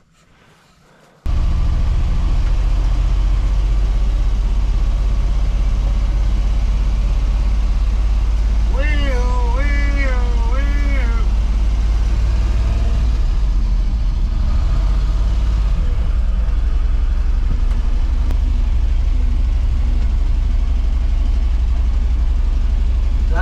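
A parked fire truck's engine idles with a steady, loud low rumble that starts abruptly and holds through, with a brief whining tone partway in.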